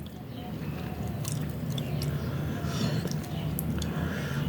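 Close, steady chewing of fried fish with rice and green chili: soft, wet mouth sounds continue throughout with no pauses.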